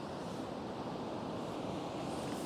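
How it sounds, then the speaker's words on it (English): Waves wash onto the beach at Scarborough's South Bay, a steady broadband surf roar mixed with wind buffeting the microphone, continuous and moderately quiet. "I'm going to wait for a nice big wave to come in"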